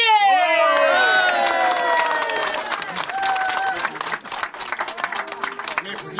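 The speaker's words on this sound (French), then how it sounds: "Merci beaucoup pour ces applaudissements aussi spontanés" An audience claps and cheers for a master tile maker at a presentation in Azannes, loud and dense at first, mixed with high shouting voices that trail off into lighter, scattered clapping.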